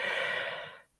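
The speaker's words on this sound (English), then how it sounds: "Stretch a bit, breathe deeply" A long, slow deep breath drawn during a guided stretching and breathing session at a spiritual ceremony, a soft airy rush held steady for most of a second before fading into silence.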